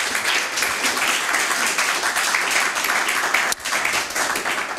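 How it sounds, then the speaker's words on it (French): A church congregation applauds steadily, a dense, continuous wash of many hands clapping that fills the room, loud and unbroken apart from one brief dip near the end. "Est-ce qu'on peut tout simplement remercier le Seigneur en acclamant quelques moments le Seigneur notre Dieu?"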